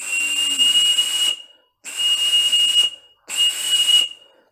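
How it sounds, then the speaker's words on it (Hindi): Three breathy whistles blown across a pen cap, each a steady high airy tone about a second long with hiss, separated by short silences, close and fairly loud. "जैसे हम पेन के ढक्कन में हवा फूकते हैं और सीटी बजती है"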